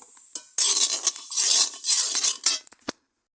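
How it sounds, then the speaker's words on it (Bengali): Rice grains being dry-roasted in a pan for a corn flour recipe, giving brisk scraping and rattling stir strokes with occasional metallic clinks, fairly close, ending in a sharp clink before silence. "চাল ভেজে নিচ্ছি।"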